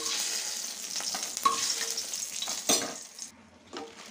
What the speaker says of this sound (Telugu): ఆయిల్ హీట్ అయిందండి. ఇప్పుడు ఇందులోనే అలాగే కొన్ని ఎండుమిర్చి కూడా వేసాను.